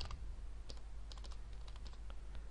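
Rapid, light keystrokes on a computer keyboard, an uneven run of clicking taps heard close up over a low steady hum.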